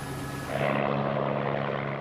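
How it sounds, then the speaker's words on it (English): A 7 News helicopter circles overhead during a police pursuit in Perth, Western Australia, giving a steady, fairly loud rotor and engine drone that swells slightly midway; no speech. "Circling above in the 7 News helicopter, pilot Nick Scott and cameraman Neil Smith,"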